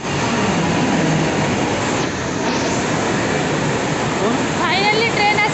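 A train pulls into a station, its steady rumbling and rushing wheel noise filling the clip at close range, with higher squealing brake tones emerging toward the end.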